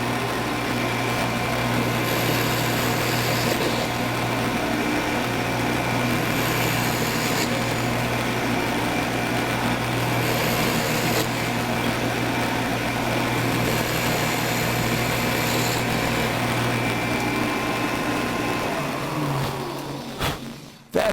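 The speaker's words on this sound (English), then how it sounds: "Let's drill a couple holes." Shopsmith drill press running steadily while boring holes in a table insert, a loud continuous motor whine with cutting sounds on top, then the motor cuts off and winds down at the end.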